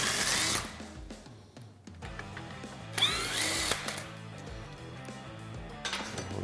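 A power tool spins off a castle nut on the A-arm of a Honda Pioneer 1000-5 side-by-side, close and loud, in whirring bursts with short pauses between them and no talk.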